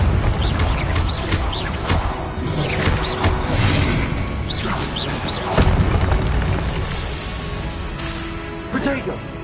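Repeated Confringo spell explosions from the video game Hogwarts Legacy, with several sharp booming bursts and swishing impacts spread across busy, loud combat noise.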